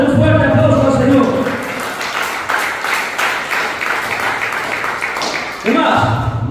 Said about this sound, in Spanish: A su nombre, den un fuerte aplauso al Señor.